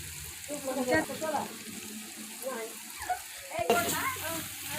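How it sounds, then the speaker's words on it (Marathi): Tempering spices sizzle in hot oil over a wood-fired clay stove in a farm field, with a close, crackling hiss and stirring scrapes and a sharp burst of frying near the end. "आता फोडणी टाकले"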